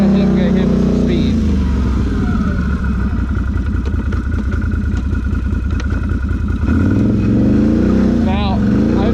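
A 2022 Can-Am Renegade 650 XMR ATV on new tires charges through a deep mud hole at speed, its engine roaring loudly and steadily with splashing clatter, and a voice briefly audible over the noise.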